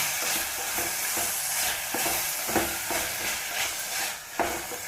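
Beans and carrots fry loudly in a pan and are stirred, giving a dense, continuous sizzle broken by regular scraping strokes of the spoon. The sound is close and has no talk over it.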